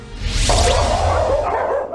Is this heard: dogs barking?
yes